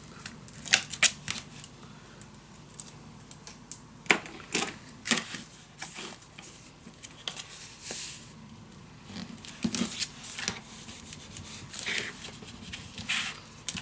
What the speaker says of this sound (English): Peel it off.